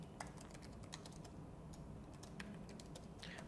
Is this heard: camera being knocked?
no